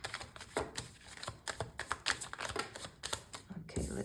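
Tarot cards are shuffled by hand close up, a rapid run of dry riffling and slapping bursts in an uneven rhythm that continues for several seconds.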